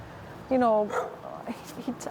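A dog gives one loud, drawn-out whimpering bark or yelp. Softer yips follow, close by in a quiet outdoor space.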